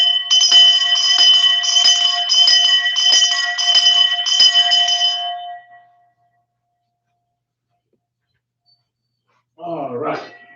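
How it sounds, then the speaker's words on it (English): A metal bell is struck in a quick repeated series of ringing strokes that blend into a sustained chime and fade to silence, followed by a brief burst of a voice. "So every Friday we strike the bell."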